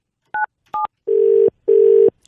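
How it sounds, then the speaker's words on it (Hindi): A phone prank call opens with two short keypad tones, followed by two long, loud ringback tones with a steady pulse. There is no talking over them. "घंटी बज रही है भाई साहब"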